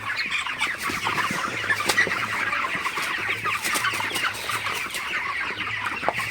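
Broiler chickens cluck steadily throughout a poultry shed at night, a dense continuous flock chatter with occasional sharper calls and a low hum in the background.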